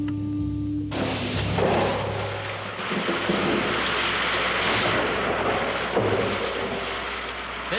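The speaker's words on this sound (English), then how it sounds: "see that storm ahead of us" A thunderstorm with heavy rain rolls overhead, a loud deep thunder rumble breaking in over a steady hiss of pouring rain that continues throughout.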